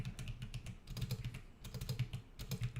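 Rapid, irregular keystrokes on a computer keyboard, clattering in quick bursts with brief pauses, close and fairly quiet, no voices.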